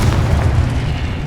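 A Confringo spell explodes in the Hogwarts Legacy game. It makes a loud, sustained, rumbling boom with a heavy low end that fills the whole moment without a break.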